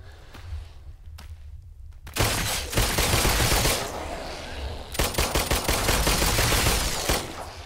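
Rapid bursts of gunfire in The Brookhaven Experiment, a few scattered shots followed by loud sustained volleys of automatic fire with short breaks between them.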